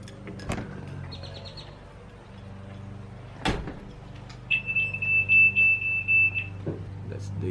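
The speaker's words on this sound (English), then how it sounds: "That's the Yi little alarm." A Yi outdoor security camera sounds its alert alarm, a series of short high electronic beeps in a quick pulsing run, following a few thuds and clicks in a quiet room.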